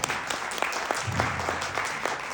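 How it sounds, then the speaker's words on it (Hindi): An audience claps steadily for a helper at a gathering, a dense, even round of applause that lasts the whole stretch without voices over it. "एक ताली में रामदास के लिए चाहता हूं"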